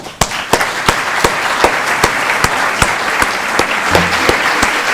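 An audience at a school eloquence contest claps for a jury member with loud, evenly spaced claps that fall into a steady rhythmic beat and carry on without pause.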